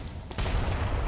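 A cannon in Bloodborne: The Old Hunters fires with one sudden heavy blast, followed by a dense, rumbling roar that carries on to the end.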